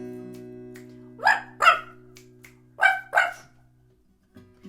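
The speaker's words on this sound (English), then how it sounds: "It's a dog, that's right." A dog gives four sharp barks in two quick pairs, fairly close and clear over a low steady hum, followed by quiet.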